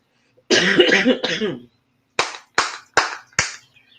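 A voice speaks briefly, then four sharp, separate coughs follow in quick succession, close and fairly loud.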